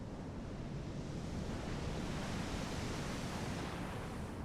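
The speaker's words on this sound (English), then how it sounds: "watched the waves smack against the rocks" Pacific Ocean surf breaking against rocks at Panther Beach, a beach below cliffs, makes a steady, broad roar. It is heard without individual crashes and with a little wind, and nobody speaks.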